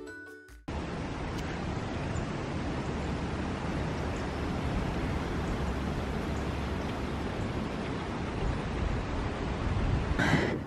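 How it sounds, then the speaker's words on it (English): A low-running creek flows after recent storm runoff, giving a continuous, even rush of water that starts abruptly and continues steadily with no talk. "Here is the beautiful creek."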